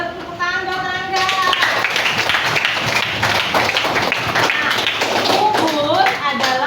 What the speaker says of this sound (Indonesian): Tepuk tangan buat Rangga.